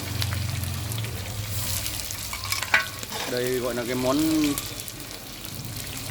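Marinated freshwater shrimp fry in hot oil with a steady, close sizzle and crackle. A voice talks over the frying, and a bright spatter breaks out midway.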